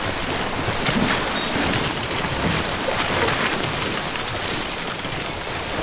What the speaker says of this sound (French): Je vais traverser la rivière alors qu'il pleut, Georges.